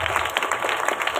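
A crowd at a Catholic church festival Mass honouring Mother Mary claps to welcome a priest, a dense, loud, steady patter of applause lasting about a second.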